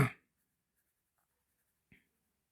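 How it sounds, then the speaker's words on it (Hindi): Pen or marker scratching briefly on paper while writing triangle names in a geometry lesson, one short burst at the start and a faint tap later, otherwise quiet. "ऐसा लिखता हूँ ट्रायंगल"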